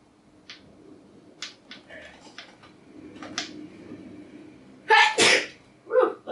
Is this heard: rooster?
no